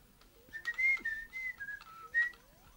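A person whistles with an open mouth, a thin wavering melody of several gliding high notes, quiet and close with no talk.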